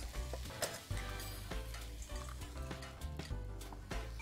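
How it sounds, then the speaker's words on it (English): Two eggs scrambled in a hot frying pan for egg fried rice, giving a steady close sizzle with repeated scraping and stirring clatter of a utensil against the pan, no talking. "And then we're just going to scramble the eggs in. So just keep turning."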